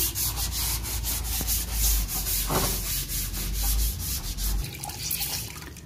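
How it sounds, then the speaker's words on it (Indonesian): Wet sandpaper rubbing over the painted bodywork of a Suzuki GSX-R150 motorcycle, a steady close scratching swish that runs continuously with slight surges and no voices. "kita amplasnya hanya lewat aja, jadi ini hanya ngilangin"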